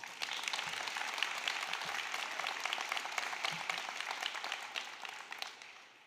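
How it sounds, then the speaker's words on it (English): An adult school graduation audience breaks into sustained applause, a dense, even patter of many hands that holds steady before tapering off at the end. "Give yourselves a round of applause."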